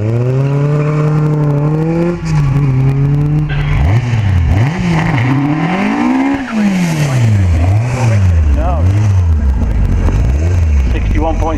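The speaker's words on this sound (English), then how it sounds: "This is the X-Sand Racing chassis with a Honda Blackbird engine." A hill climb race car with an X-Sand Racing chassis and a Honda Blackbird motorcycle engine screams loudly at Harewood, revving up and down through rapid gear changes while a commentator talks over it.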